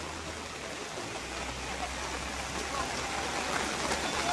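Steady, dense hiss of heavy rain pouring down at a village weekly market, constant and loud throughout with no clear breaks.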